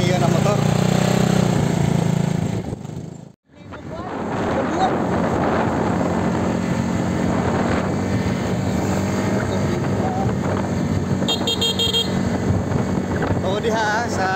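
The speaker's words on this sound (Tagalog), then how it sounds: "And test drive namin ang Mio na motor." A Mio motorcycle engine hums steadily through a test ride in Bislig City, loud and close with rushing wind and road noise, briefly cut out once, while riders talk over it.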